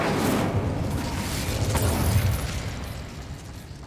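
An Incendio fire spell in the Hogwarts Legacy video game bursts out as a loud, roaring whoosh of flame that carries on as a dense, rumbling wash before slowly fading.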